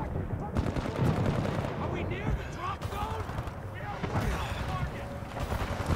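Teammates' gunfire in the shooter game Titanfall 2, a dense rattle of rapid shots and blasts running throughout, with a voice talking over it.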